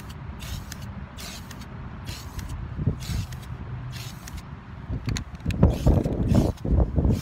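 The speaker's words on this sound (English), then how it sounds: "Spray painting a gravestone." Short hissing bursts from a spray can painting headstone lettering repeat at a steady pace, close by, over a low rumble of background noise.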